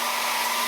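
A hair dryer runs steadily at close range, blowing hot air onto a PlayStation 3 console to heat it, with an even, unbroken whir and no voices.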